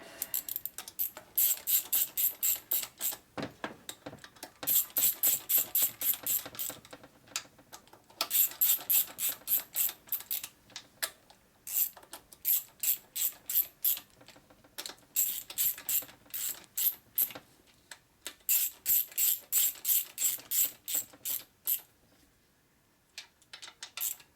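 Close ratchet clicking comes in rapid bursts as bolts are tightened on a 1946 84ci stroker Knucklehead motor rebuild, with each rattling run followed by brief pauses and repeated many times.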